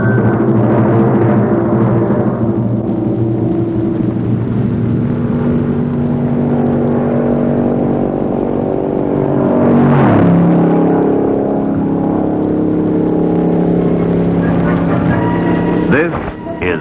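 A 1960 Buick Invicta drives on a long-distance engineering run with a steady, loud engine drone. The engine surges briefly near the middle, then settles back into a continuous cruising hum.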